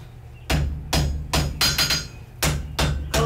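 Hammer blows ring out on wrought iron at an anvil while a hammer head is forged: about nine loud, close, sharp strikes in an uneven rhythm over a steady low hum.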